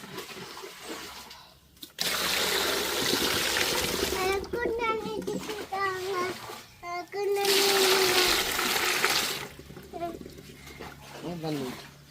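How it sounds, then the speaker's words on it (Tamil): Water runs steadily for several seconds as a bucket is filled to the brim at home, a splashing, rushing pour heard close by while an adult and someone talk over it. "ஃபுல்லாக தண்ணி ஊற்றி விடுவேன்"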